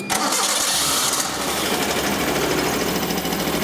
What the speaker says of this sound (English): we'll go ahead and start the engine